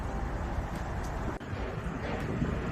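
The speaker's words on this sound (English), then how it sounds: "it is really windy out here on the West Bank" Strong wind blows outdoors on the West Bank near the Mississippi River, a loud, steady roar of buffeting microphone noise with no voices.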